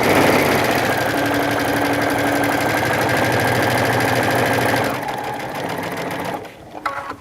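A sewing machine stitching fabric on a bag runs in a fast, steady mechanical whir for about five seconds, then slows and drops off, with a few clicks at the end, close by.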